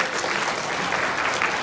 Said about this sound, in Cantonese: 先俾掌聲恭喜晒佢哋先